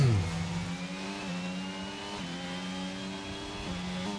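A Ferrari Formula 1 car in F1 22 holds a steady high engine whine on a flying lap at Monza, the pitch climbing gradually with brief dips at gear shifts, loud and close throughout.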